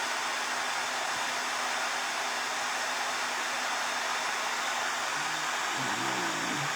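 Heat dryer blowing to dry a Victorian-style craft heart, a loud steady whoosh throughout, close up, with a faint voice briefly audible near the end.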